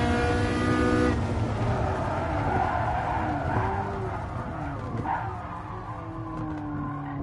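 A Ferrari in Gran Turismo Sport drifts during a race against a Dino and a LaFerrari, its tires squealing in long wavering tones over engine drone. The loudest squeal comes at the start and the rest fades slightly.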